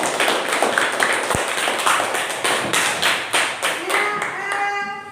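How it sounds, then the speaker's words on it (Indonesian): A classroom audience claps for a student group after its presentation. The close, dense applause is full of sharp individual hand claps and carries on steadily, with faint tonal sounds creeping in near the end. "Berikan tepuk tangan dulu untuk kelompok."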